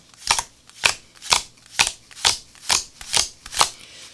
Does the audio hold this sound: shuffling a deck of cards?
yes